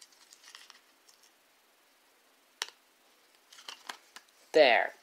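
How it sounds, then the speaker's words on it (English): Scissors snip through a custom Pokemon card, a short crisp cut ending the clip after scattered faint clicks and rustles, close and fairly loud against a quiet background. "Snip it in half."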